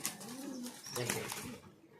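Budapest racing pigeons at a loft give low, rolling coos close by, mixed with rustling and faint background talk.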